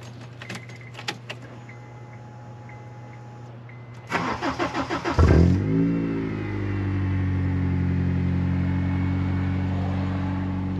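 An imported V6 car makes a cold start after a few faint clicks. The starter cranks briefly, the engine catches with a rising rev, then it settles into a steady, moderately loud idle.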